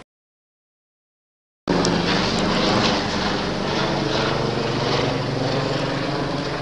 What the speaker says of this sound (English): We've got helicopters flying overhead.